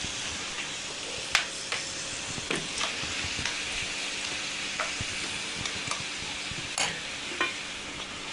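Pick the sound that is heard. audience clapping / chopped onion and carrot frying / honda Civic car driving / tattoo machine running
chopped onion and carrot frying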